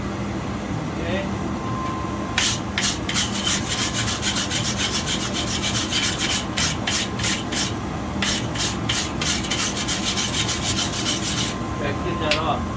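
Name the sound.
wire brush scrubbing a small hunting knife blade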